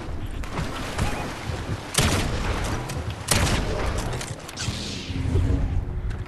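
Fortnite gunfire in a Star Wars–themed match: sharp blasts at around two and three seconds amid ongoing rattling shots and booms, loud and close, with no voices.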